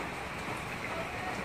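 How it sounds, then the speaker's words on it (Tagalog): Heavy rain falls in a dense, even hiss, fairly faint and continuous, with no distinct individual drops standing out. "Sa sobrang lakas po ng ulan."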